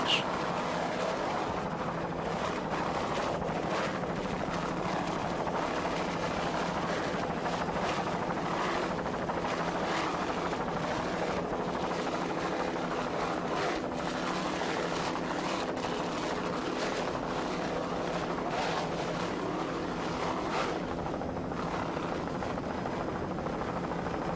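Offshore racing powerboat with Stotler racing engines throttling hard at a 1993 US offshore race, a continuous loud roar of engines and wind noise filling the whole stretch without pause.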